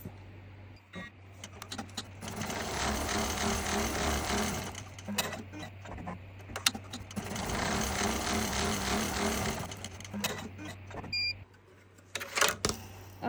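A Smartstitch embroidery machine stitches a box design, its needle drive hammering out a loud, fast, steady chatter in two long runs separated by a brief pause, followed by clicks and thumps as it stops.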